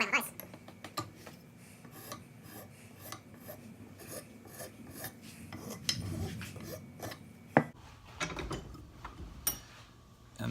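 A hand file rasps across the hard edges of a homemade jigsaw-powered percussion massager part clamped in a vise, a steady run of gritty scraping strokes close by, with some faint speech-like sound mixed in.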